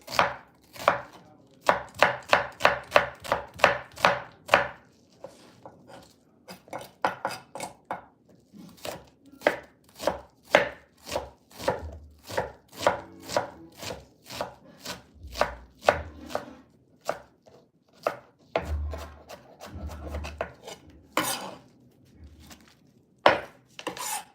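A knife chops small whole onions on a board in quick, close rhythmic bursts of sharp knocks, with short pauses between runs and an occasional louder thud.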